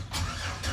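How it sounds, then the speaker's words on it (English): A 2008 Chevy Express van engine cranks and starts after sitting, its low engine rumble loud and close, with brief bursts of cranking at the start and end of the short clip. "Oh, listen to that thing crank up."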